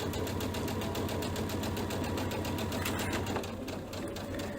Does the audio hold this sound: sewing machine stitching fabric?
yes